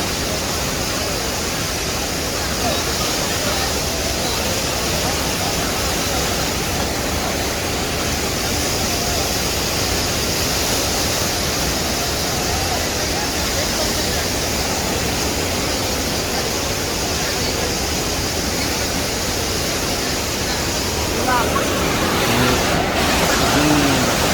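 Floodwater pouring over the Domukha dam, a loud, steady broadband roar of rushing water that holds unchanged throughout, with a brief extra swell near the end.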